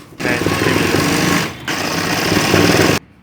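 An electric sewing machine stitches the fabric edge of a baby's summer shorts in two loud, steady bursts of rapid needle clatter separated by a short pause, then stops abruptly.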